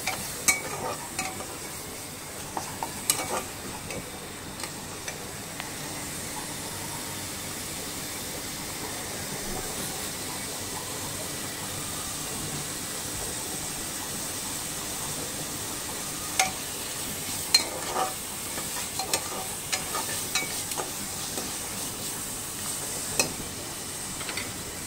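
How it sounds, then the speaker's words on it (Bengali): Spices cook down with chopped onion for a pressure-cooker beef tripe dish, sizzling steadily while a utensil stirs and scrapes the pan in scattered clicking bursts. "পেঁয়াজ কুচির ভিতরে আমি বাকি মশলাগুলো দিয়ে দিতে এবং মশলাটা ভালোভাবে কষিয়ে নেব।"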